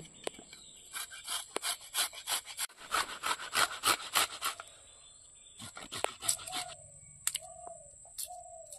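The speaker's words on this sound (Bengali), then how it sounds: "গরম মশলাটা বেটে নেব। টমাটোটা পিষি নেই।" Garam masala and tomato are ground on a stone in a village kitchen, with rhythmic back-and-forth rubbing strokes that slow and stop, followed by birds chirping nearby.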